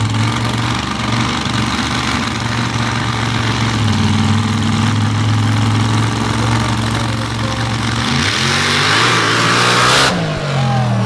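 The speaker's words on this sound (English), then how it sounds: "with this blown and injected alcohol engine." A blown, injected alcohol drag racing engine roars loudly and close, holding a steady low throb before the revs climb and swing near the end, with a sharp burst of noise just before it drops away.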